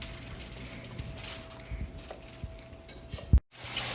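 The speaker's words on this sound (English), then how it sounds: "use our spatula to give it a little stir" A spatula scrapes and clicks softly against a bowl while stirring banana chocolate chip muffin batter, faint irregular taps over quiet room noise, ending with a sharp knock.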